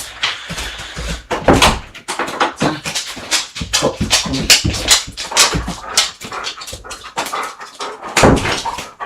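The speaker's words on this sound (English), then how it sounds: "Someone's knocking away." Irregular sharp raps on a door land in quick, uneven bursts, loud and close, with a dog faintly stirring between the hits.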